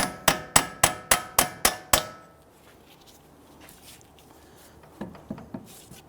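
A punch is hammered through the center of a CV axle on an Infiniti G37x, seven sharp metallic strikes in a steady rapid rhythm, close and loud, followed by quiet shop noise and a few fainter taps near the end.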